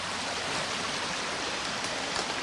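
A woodland brook flows in a steady, even rush of water, close and unbroken, with no other sounds standing out.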